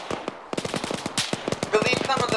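Heavy automatic gunfire in the Arma video game, rapid close bursts of sharp cracks in dense overlapping volleys that keep going without a break.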